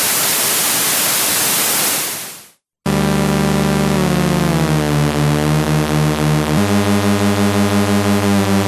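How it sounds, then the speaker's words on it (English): A dense hiss of white noise from a 1970s Korg 770 analog monophonic synthesizer fills the first two seconds, fades out, then gives way after a short gap to a sustained droning synth tone. "And then you have white noise."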